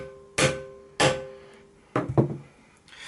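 A hammer taps a Gibson stoptail bushing into a guitar body: two sharp separate blows, then a quicker double strike, close and loud, with no speech.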